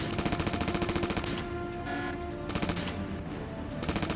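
Rapid automatic fire from the player's car-mounted weapon in the GameCube game SpyHunter, a steady rattling burst that runs loud and close through nearly the whole stretch, set against game music and engine noise.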